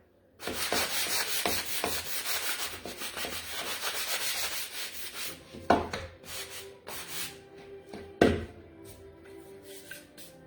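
Painted wooden Christmas decor is sanded by hand with steady, close scraping strokes, broken by a couple of sharper knocks and a short pause near the end.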